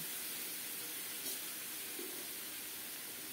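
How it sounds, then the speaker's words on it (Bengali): Steady soft rush of water running into a bowl as it is rinsed in a home kitchen, faint and continuous with a small splash partway through. "বাটি ধুয়ে অল্প করে একটু জল দেব"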